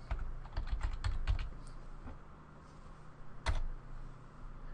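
Keystrokes on a computer keyboard as a username is entered, a quick cluster of crisp clicks followed by a pause and one last firm press, close and clear against a quiet room hum.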